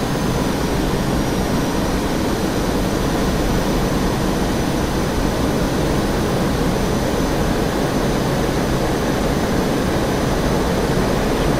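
An F-5E jet in flight in the DCS combat simulator gives a loud, steady engine roar with a broad whooshing rush and a low rumble underneath, unbroken throughout with no talking.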